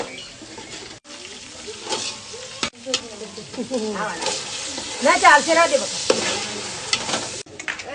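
Garlic, onion, green chilies and tomatoes sizzle and fry in oil for a dal baati chutney, a steady close crackle with bursts of stirring and scraping, while someone talks over it.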